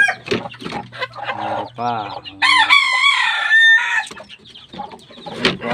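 Chickens, including a black hen, cluck and squawk close by in a loud mixed chorus. A rooster-like crow rises in the middle, and someone speaks briefly between the calls.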